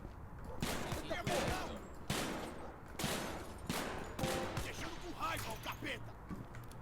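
Video game gunfire in a GTA-style open-world game: repeated sharp bursts of shots fired in quick clusters, with someone talking in Turkish over them.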